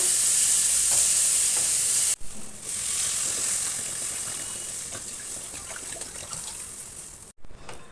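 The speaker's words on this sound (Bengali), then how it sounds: "এবার এতে আমি পরিমাণ মতো জল দিয়ে দেবো" Water pours into a pan of spiced potatoes frying for a fish curry, a steady hiss and crackle that sputters and cuts out briefly before settling into a softer simmering fizz.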